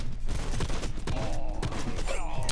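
Rapid bursts of gunfire in a shooter game, close and loud, rattling in quick overlapping volleys with sharp impacts as the player takes hits.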